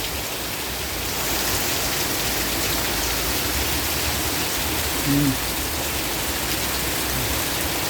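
Heavy rain pours down outside a house in strong wind, with water running and the roof leaking, making a dense, constant hiss that fills the whole stretch. A brief faint tonal sound rises near the end.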